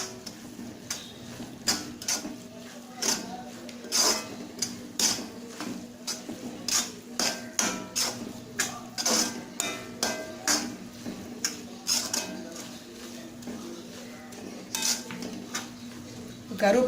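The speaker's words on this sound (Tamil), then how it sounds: "ஹையில் வச்சு நல்லா மிக்ஸ் பண்ணிக்கலாம்." A spoon scrapes and knocks against a pan as soya keema masala is stirred over high heat, an irregular run of close metallic clinks and scrapes with short gaps between them.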